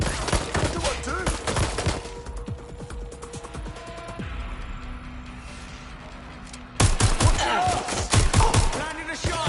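Gunfire in Watch Dogs: Legion: dense volleys of close, loud shots at the start, a lull with background action, then another heavy barrage, with voices mixed into the chaos.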